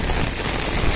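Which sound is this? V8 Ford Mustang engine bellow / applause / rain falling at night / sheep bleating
rain falling at night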